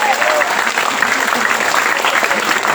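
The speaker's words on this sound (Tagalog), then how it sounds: "Palakpak sa Panginoon." Loud, steady applause from a youth camp crowd at a Christian worship gathering in Mindanao, dense clapping filling the whole stretch with some voices mixed in.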